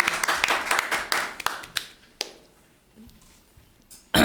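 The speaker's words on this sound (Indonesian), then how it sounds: "Tepuk tangan." A short burst of clapping from a small group fades out after a couple of seconds, followed by quiet and a brief noise at the end.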